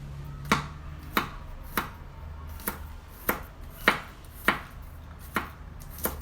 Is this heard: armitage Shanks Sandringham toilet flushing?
no